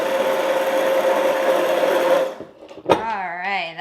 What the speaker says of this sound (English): So I'm gonna go ahead and puree basically all the veggies until it's smooth and to the consistency I want.